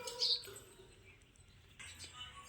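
A few faint, high bird chirps sound at a distance over quiet background noise, brief and scattered.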